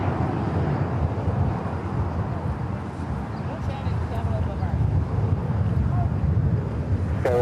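Jet airliner at LAX, a steady distant roar of engines with wind noise across the microphone, continuous and moderately loud throughout.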